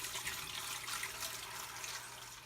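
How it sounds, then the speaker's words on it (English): Water pours steadily into a stock pot filled with meat, vegetables and whole garlic cloves for bone broth, a continuous, fairly quiet splashing rush heard on its own. "I'm going to add about 12 cups of water"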